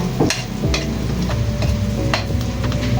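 Chicken pochero being stirred in a pan, with a steady rhythm of utensil scrapes and knocks against the metal over a continuous sizzle, close and moderately loud, no talking.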